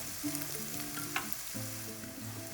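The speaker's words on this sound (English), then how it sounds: "when the oil is hot you can add the onions" Onions frying in hot oil for a cauliflower Manchurian sauce, a steady close sizzle with a few stirring scrapes and light clinks, no talking.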